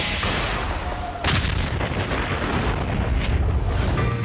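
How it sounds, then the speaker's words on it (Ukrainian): A loud, sustained mini nuke explosion in a modded video game roars with a sharp blast partway through, followed by rumbling booms and crackling debris. "під час вибуху кожен грибок супроводжується таким гуркотом, що й голова може луснути"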